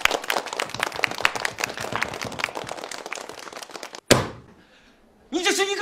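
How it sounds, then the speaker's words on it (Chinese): A room full of people claps together in brisk, dense applause for about four seconds, then a single thud cuts it off, followed by a short quiet stretch and a voice speaking. "来来来，给何小姐鼓掌"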